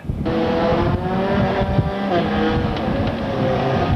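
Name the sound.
4-cylinder stock race cars racing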